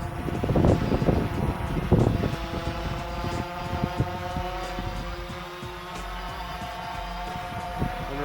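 A Xiro Xplorer drone flies nearby, its rotors giving a steady, faint motor whine with sustained tones, while gusty wind buffets the microphone in the first couple of seconds.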